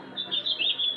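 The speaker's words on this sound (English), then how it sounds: "Go find another tree to chirp in, Birdie." A bird in a tree gives a quick run of high, bright chirps, four or five short notes close by in about a second, with no talk.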